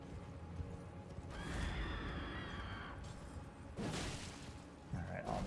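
A horse in the video game Elden Ring neighs twice, each whinny a bright, wavering call, over a low rumbling game soundscape with scattered thuds and mechanical noises.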